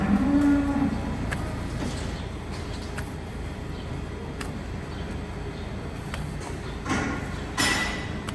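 A very lame cow moos during hoof care on a farm, a loud low call near the start followed by shuffling, clattering movement and a few sharp knocks.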